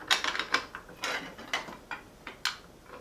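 Metallic clicks and ratcheting taps as a nut is threaded onto the keyed arbor of an Evolution Rage 4 chop saw, a string of close, uneven bursts with short pauses and no talking.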